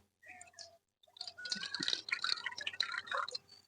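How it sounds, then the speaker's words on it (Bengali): Cloudy, milky water drains from washed lentils that had been coated in powder, with close wet dripping and splashing in irregular bursts after a brief quiet start. "এই দেখো সাদা জল বেরোচ্ছে"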